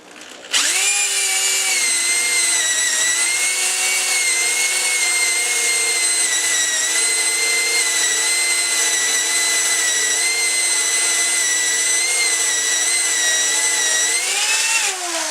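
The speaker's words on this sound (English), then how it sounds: "Starting slowly, start your drill and start pushing straight down very slowly." A power drill boring into a wooden door runs at a steady, high-pitched whine for several seconds, starting abruptly and holding constant pitch before winding down.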